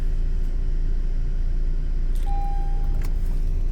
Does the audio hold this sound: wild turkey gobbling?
no